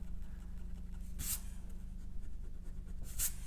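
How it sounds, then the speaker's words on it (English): A white pencil-top eraser rubs pencil lines off watercolor paper, giving soft, faint scrubbing strokes with two brighter bursts of friction. "to go ahead and erase some of those pencil lines. I like to use a white eraser."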